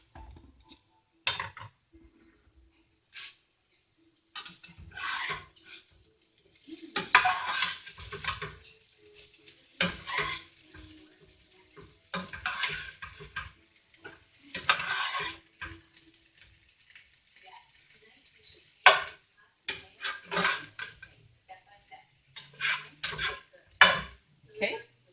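Salted potatoes sauté in a pan while a utensil stirs them. Scattered scrapes and clinks against the pan come in irregular bursts over a faint, intermittent sizzle, with brief quiet gaps between.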